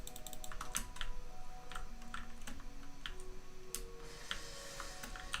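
Rapid, irregular clatter of computer keyboard keys and mouse clicks close to the microphone, steady throughout with no talking over it.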